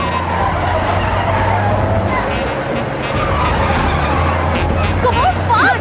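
A car speeds along in a chase with steady engine roar and tyres squealing in skids near the end, under loud music and agitated voices.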